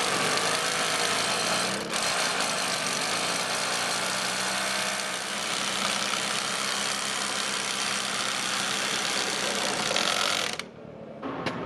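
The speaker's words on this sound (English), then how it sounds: "The little 2200 watt generator doesn't seem to want to do it." Small 2200 watt portable generator at an off-grid building site, its engine running under load in a steady, loud, rough drone for about ten seconds before dropping off sharply near the end.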